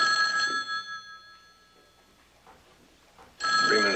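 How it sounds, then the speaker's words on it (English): A telephone rings with an incoming call: a loud electronic ring at the start, a brief quiet gap, then the ring returns strongly near the end. "Now, Mr. Bentley, when the call comes, please use this phone over here so Barnaby can listen on that phone"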